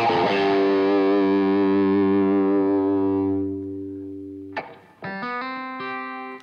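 Distorted electric guitar played through an AMP1 amplifier with a darker, humbucker-like tone: a sustained chord rings out and slowly fades, then a fresh chord is struck and holds.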